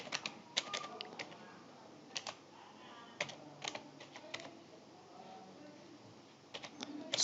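Quick bursts of keystrokes on a computer keyboard while a terminal command is entered, crisp close clicks in short clusters separated by pauses, with no talking.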